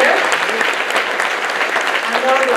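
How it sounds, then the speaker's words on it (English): A crowd applauds the performers at the 2017 Young Texas Artists Music Competition, with steady, dense clapping that is close and loud from start to finish. "Another round of applause for an amazing group of performers this year"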